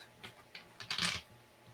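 A deck of tarot cards is shuffled in a few soft, quick riffles, with a brief louder burst near the end, faint and close in a quiet room.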